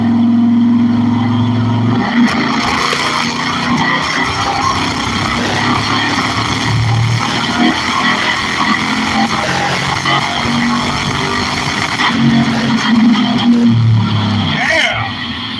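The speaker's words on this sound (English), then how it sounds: "Dyno running 36 degrees of timing." Race car engine loaded on a dyno at 36 degrees of timing, a loud close roar that holds, climbs and surges in revs for several seconds, with voices speaking over it.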